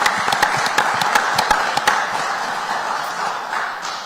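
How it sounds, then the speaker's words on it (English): Audience applause for supporters of a newly introduced second-round basketball draft pick at a Washington Wizards press event: a short burst of dense clapping with sharp individual claps, steady and fairly loud, tapering off toward the end. "So I'll give a quick round of applause for everybody that supported him."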